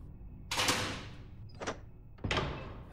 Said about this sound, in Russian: открывай дверь